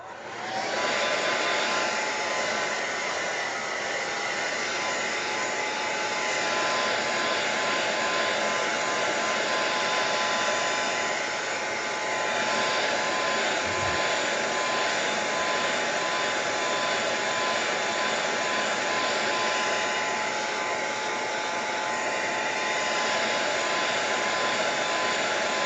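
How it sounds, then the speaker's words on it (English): A hair dryer drying a mixed media artwork, a loud steady whooshing drone that runs unbroken for the whole stretch with no talking over it. "Let me just dry all this. If you don't want to hear the dryer,"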